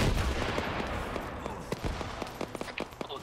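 A rocket launcher fires in a military shooter game set in a NATO versus Russia battle, opening with a heavy blast and rumble. Scattered distant gunfire and sharp cracks follow.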